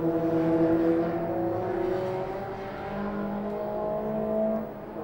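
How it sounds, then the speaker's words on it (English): A Formula Sheane race car at the Leinster Trophy circuit accelerates through corners, its engine note rising and falling in pitch as it shifts and brakes, moderately distant and heard alone without voices. "David Parks now comes through Bridgestone drive guard corner and heads out the country for the last time as he goes out Kennedy's Rise, out to Lola corner"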